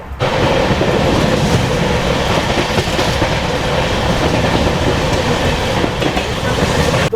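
Steady rumbling of the 12311 Netaji Express, a passenger train with LHB coaches running from Howrah to Kalka, heard from inside an AC three-tier coach; loud and continuous, with a constant rolling clatter and no voices.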